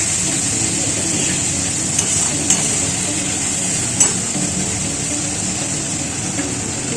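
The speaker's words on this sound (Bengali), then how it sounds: "সামান্য একটু জল দিচ্ছি মশলাটা, আদাটা, টমেটোটা ভালোভাবে ভাজার জন্য" Ginger, tomato and spice masala frying in a kadai with a splash of water for a spicy potato dum, a steady moderate sizzle with a few soft clinks of a spoon against the pan.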